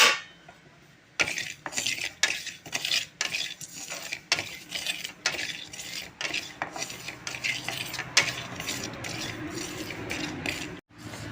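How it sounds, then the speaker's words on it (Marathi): Garden cress seeds are dry-roasted in a pan for date and edible-gum laddoos, heard as a rapid, rattling series of scrapes and scratches from a spatula stirring the small dry seeds. "तर आता हा मी हलीम आहे तो भाजून घेते."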